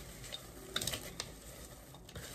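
Hawaiian hurricane popcorn is stirred with butter in a bowl, giving faint, quiet scraping and rustling with a few light clicks over a soft background hiss.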